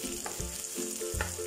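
Ginger sizzling and frying as it goes into a pan of ginataang sitaw at kalabasa, a steady close hiss with a few sharp stirring clatters, no talking.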